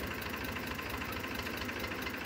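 A 2010 Massey Ferguson 1035 tractor with a Ricardo engine runs at a steady idle, its continuous low, rhythmic knocking chug loud and close with no talk over it.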